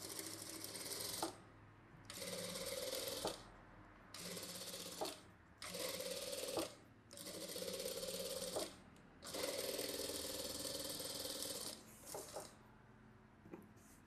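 A sewing machine stitches a saree blouse along a marked line, running in repeated bursts of a second or two each with brief pauses between, a steady mechanical rattling whir at moderate distance.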